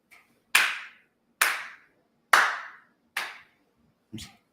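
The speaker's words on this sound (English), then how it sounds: "You hear that clap way in the back." Five sharp, separate hand claps ring out at a slow, slightly uneven pace, each one followed by a short echoing decay as if in a large room, with nothing else heard between them.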